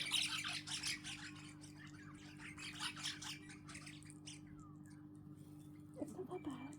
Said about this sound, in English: Get the cockies. The corellas coming.